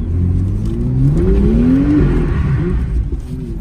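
A car engine hums and whooshes as it accelerates through Paris streets, the pitch rising and falling through gear changes, heard from inside the vehicle.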